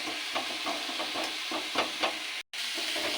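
Chopped banana stem frying in a pan, a steady broadband sizzle with soft scraping stirs at a slow irregular rhythm, close and fairly loud, with a brief dropout near the end.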